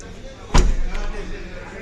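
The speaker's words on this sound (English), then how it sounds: "I'm gonna close up the door now" A Hyundai Grand i10 Nios car door shuts with a single solid, close thud, and a faint rattle trails off after it.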